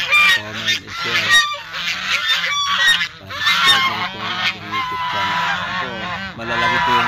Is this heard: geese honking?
yes